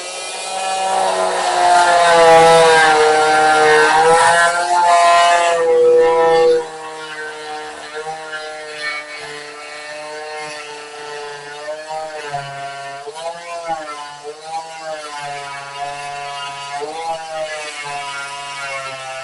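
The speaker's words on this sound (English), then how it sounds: "I'm going to try to use this reciprocating saw here to cut through this base plate here." A reciprocating saw cuts through a closet base plate with a loud, steady, buzzing motor whine for about six seconds. It then continues more quietly and unevenly, with no talk over it.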